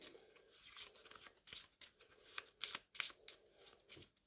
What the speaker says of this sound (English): Give us a shuffle again.